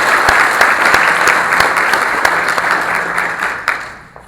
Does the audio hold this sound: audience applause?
yes